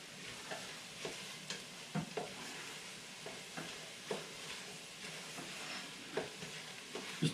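Garlic sizzles steadily in hot oil in a gumbo pot, with soft scraping clicks from a utensil stirring it at irregular intervals, close and alone with no talk.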